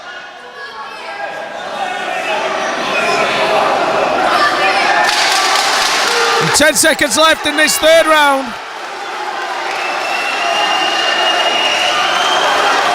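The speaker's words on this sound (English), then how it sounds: "The crowd screaming for Chester to finish this fight." Crowd at an amateur MMA bout yelling and roaring through the closing seconds of the third round, a loud, steady wash of noise that swells briefly, with a commentator talking over it.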